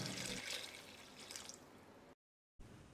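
About half a litre of water is poured into a pan of chicken curry masala, making a soft, hissing splash that eases into a quieter trickle. A brief cut to silence follows before faint liquid sound resumes.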